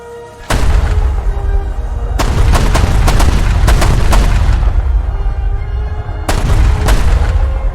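Destroyer deck guns in a War Thunder naval battle boom repeatedly, with several sharp loud blasts and rumbling reverberation between shots, a cluster of rapid bursts in the middle, and no talking.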